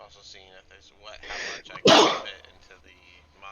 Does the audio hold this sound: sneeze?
yes